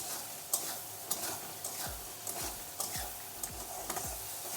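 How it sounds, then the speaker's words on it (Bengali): Ginger-garlic paste and green chili paste stir-fried in a pan for a sour and spicy egg curry: a steady, faint sizzle broken by soft, regular spatula scrapes and taps. "আদা রসুন বাটা, কাঁচা লঙ্কা বাটা, এগুলো দিয়ে ভালো করে কষাতে থাকবো"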